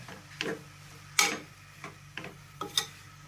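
A spoon stirring red spinach in a pan, a handful of sharp scraping ticks spaced roughly half a second apart over a soft sizzle, close and fairly quiet.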